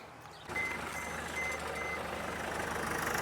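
A car engine with a suspected turbo fault starts after a brief quiet moment and then runs at a steady idle, a continuous low rumble with a faint whine over it.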